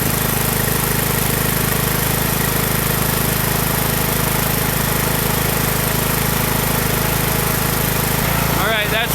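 A gasoline lawn tractor engine, being tested for ethanol conversion, roars loudly and continuously at close range in a harsh, steady drone, with a brief change near the end.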